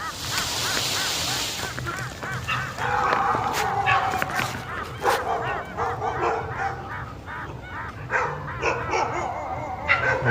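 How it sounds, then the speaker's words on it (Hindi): Dogs bark at night in a forest, repeated yelps at some distance mixed with honk-like calls over steady background noise, while someone talks in places. "कुत्ते भौंक रहे।"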